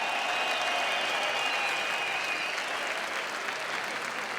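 A crowd at the OKTAGON 40 MMA event applauds a fighter, broad sustained clapping that fills the space evenly from start to finish.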